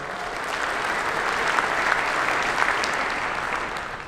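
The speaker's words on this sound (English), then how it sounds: "I think we should start by giving Mo Levin a round of applause for putting together this astonishing show." A packed conference audience at a cryptocurrency event claps in a thick, sustained burst of applause that swells slightly and then tapers near the end, loud and continuous with no talking.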